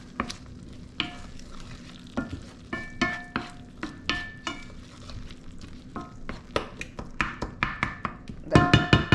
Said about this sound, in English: I'm just gonna break up the tomatoes a little bit more.